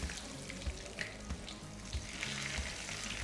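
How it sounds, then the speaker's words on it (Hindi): Cheese fingers deep-fry in hot oil, giving a steady, dense bubbling sizzle with faint soft knocks at regular intervals, close and continuous, without speech. "चीज़ी फिंगर हम दूसरा भी ऐसे फ्राई कर लेंगे। तेल थोड़ा गर्म हो रहा है"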